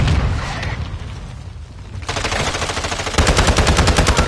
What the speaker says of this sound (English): I was just firing away.